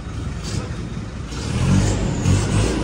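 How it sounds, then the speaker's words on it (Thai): A 2023 Isuzu pickup truck engine idles and then is revved, its loud, close rumble rising in the second half with a couple of throttle swells. "ลองเบิ้ลดูได้นะครับ"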